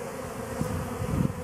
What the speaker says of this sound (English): We've got bees arriving and going in now.